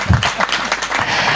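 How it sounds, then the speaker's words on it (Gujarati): Audience clapping at a religious discourse gathering, a brief burst of dense, fairly loud applause that stays steady throughout. "આના માટે તાળી પાડો."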